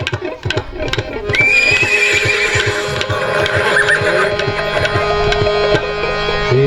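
A horse whinnies loudly over steady, rhythmic clip-clopping hooves, with a musical drone and other performance sounds underneath throughout.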